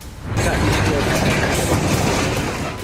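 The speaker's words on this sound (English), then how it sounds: "The train derails, taking the traffic light sign with it." A train derailing at an old switch at Szeged-Róka station in Hungary on recently renovated track, taking a signal post down with it. A loud, sustained rumble and crash of heavy rail wreckage runs for about three seconds.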